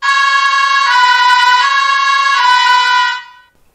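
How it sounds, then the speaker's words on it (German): A steady electronic construction-site warning tone from a Märklin H0 model road-rail Unimog, with strong harmonics, pulsing slightly in a repeating pattern for about three seconds, then cutting off; loud and close, no talking. "Zum einen das typische Baustellenwarnsignal."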